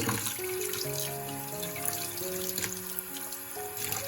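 Running tap water pours steadily over small octopuses as they are rinsed of their slime, a continuous close splashing with a faint tonal hum beneath.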